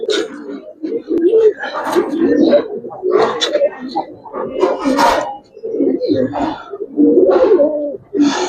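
Male Jabra pigeon of a Pankhi bloodline cooing in repeated loud bursts close by, with people talking over and between the calls.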